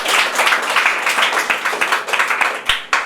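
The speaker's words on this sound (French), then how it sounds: "On peut encore applaudir." An audience at a civil-society awards broadcast claps in a dense, sustained round of applause, loud and close, with individual hand claps standing out as it tapers near the end.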